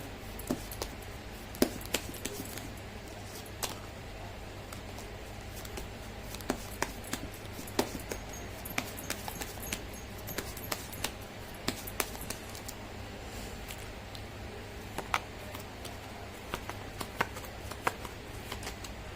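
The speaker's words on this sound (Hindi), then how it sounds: "कर लेती हूँ कार्ड की शफलिंग।" Tarot cards being shuffled by hand, a continuous soft papery rustle with scattered sharp little snaps and flicks throughout, close and fairly quiet.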